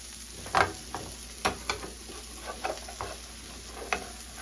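A Korean cabbage sandwich frying in a pan, a steady soft sizzle with several scraping knocks of a spatula as it is turned over, close by.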